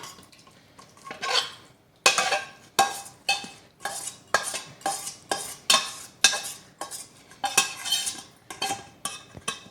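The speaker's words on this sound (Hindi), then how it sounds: "ये मसाला डाल के इसको अच्छी तरीके से ये चला के इसको मिक्स करके" A spoon scrapes and clanks rhythmically against a pot as meat and haleem masala are stirred together, repeated loud strokes about once a second with no voices.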